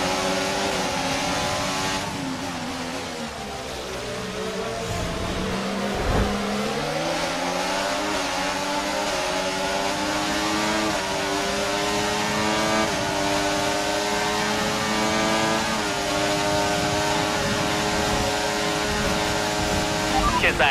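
Race car engines scream in the Rush racing game at Abu Dhabi, loud, continuous high revving with pitch dipping on a downshift and then climbing and holding through a long flat-out stretch.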